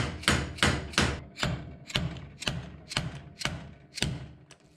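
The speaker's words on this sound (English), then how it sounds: "we can tap this back down to drive the bearing back home" A hammer taps the bearing back down into a Toyota 2H power steering pump during a rebuild, about ten sharp, evenly spaced metallic knocks ringing close by with no talk.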